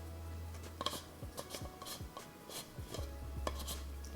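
The screw-off lid of a cheap GOBE ND filter carrying case being twisted open up close, faint scraping, rubbing and small plastic clicks in an irregular rhythm over a low hum.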